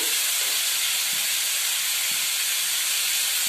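Ingredients sizzle in a hot pan for egg curry, with potatoes among them, a loud continuous frying hiss that holds steady throughout, with a few faint low knocks underneath.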